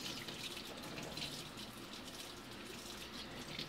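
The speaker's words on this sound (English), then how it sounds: "Give it a nice rinse." Shrimp being rinsed under a running kitchen tap, a faint steady stream of water splashing continuously without a break.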